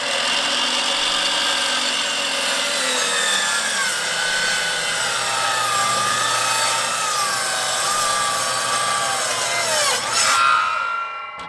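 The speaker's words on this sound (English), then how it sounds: "miter saw down to, look at that, it like maxes out right around 46" A miter saw with a slightly dull blade cuts wood for a yurt platform, a loud close whining buzz with shifting pitch as the blade bites through, ending abruptly with a sharp clack as it spins down.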